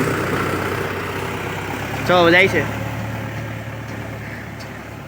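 A tractor hitched to a loaded trailer in a village, its engine a steady close rumble throughout with a brief spoken phrase partway through.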